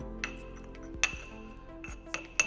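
Boiled rice being smashed in a glass container, a few sharp clinks of a utensil striking glass spaced irregularly over a soft background, close and fairly quiet, with no talking.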